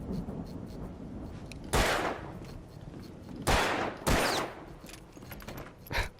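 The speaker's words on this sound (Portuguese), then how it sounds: "eu vou dar um tiro aqui" Gunshots ring out in the video game Alan Wake Remastered: four sharp, loud blasts spaced a second or two apart over a low, rumbling game backdrop.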